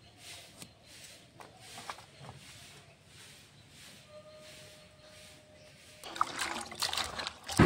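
Cut vegetables, beans, cabbage and potato, being washed with water, heard as light trickling and splashing that swells into a louder, closer rush of running water toward the end, with no speech.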